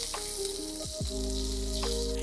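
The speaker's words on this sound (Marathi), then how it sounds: "आता मिरची आणि लसूण तेलावरती परतून घेतलंय" Green chillies and garlic sautéing in hot oil for a Maharashtrian thecha, a steady close sizzle and crackle with a couple of soft stirring scrapes.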